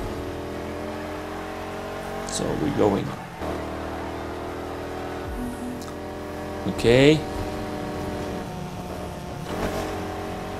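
A steady car engine drone with shifting revs from the Need for Speed Heat racing game plays on, with occasional swells, while a person speaks briefly over it.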